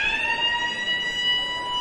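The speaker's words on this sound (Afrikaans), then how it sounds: "Daar hoor ons die sirene in die agtergrond." A siren sounds in the background at an under-15 schools rugby match between Affies and Queens College, holding one steady tone for about two seconds.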